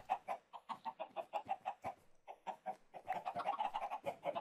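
Chickens in the video game Minecraft cluck in quick, regular bursts that run almost without pause, close and clear, with a short lull partway through.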